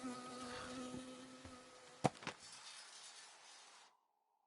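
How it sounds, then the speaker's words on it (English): In the video game Firewatch, an insect buzz hums steadily and close until a sharp double impact cuts through it, then the buzzing thins and stops abruptly. "I got stung by a bee."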